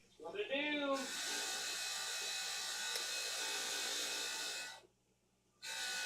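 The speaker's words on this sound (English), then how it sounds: "It's over there running a grinder while I'm trying to talk." A grinder runs in a home workshop during a Sunday evening session, a steady loud whine holding for about four seconds, cutting off briefly, then starting again, with a voice talking over the start.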